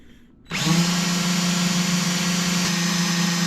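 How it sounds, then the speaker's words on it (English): A power drill spins up suddenly and runs at a steady, loud whine, driving a small drill-mounted pump that pumps fluid into buckets without a break. "this little pump that goes on my drill"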